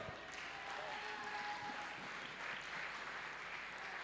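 A congregation claps steadily through a church service, dense applause filling the space evenly for the whole span, with faint tones and voices mixed in.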